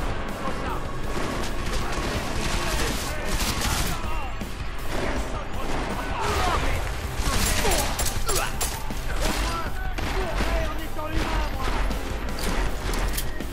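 Video game gunfire, dense rapid bursts of shots and crashes running without a break, loud and close, with a voice talking under the noise.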